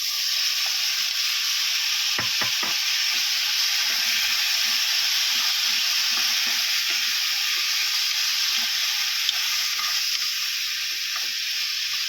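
Chicken pieces frying in a pan with tomatoes in a Filipino home kitchen, a steady bright sizzle throughout with a few scraping stir clicks early on, close and even.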